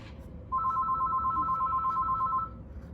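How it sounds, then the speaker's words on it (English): A steady electronic telephone ring tone sounds for about two seconds over a low background hum, with no one speaking. "Don't mind the phone. I don't know why it's ringing."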